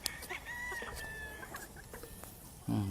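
Proven laying hens of a Cam-Cam line on a farm cluck and squawk in short, scattered calls, moderately close, with a louder burst at the end.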